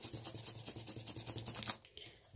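A makeup brush is wiped back and forth to clear off leftover product, giving a quick, steady run of soft, close swishing strokes, faint and alone, ending with a brief pause.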